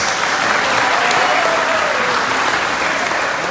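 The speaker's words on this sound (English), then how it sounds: "Can we give her a round of applause," An audience gives a steady, loud round of applause at a motivational talk, sustained dense clapping throughout with no break.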